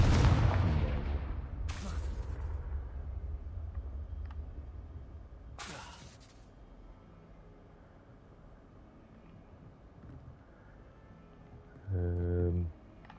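A Confringo spell explosion in Hogwarts Legacy on PS5, a sharp booming blast at the start followed by a few further bursts and pops fading into quieter game ambience.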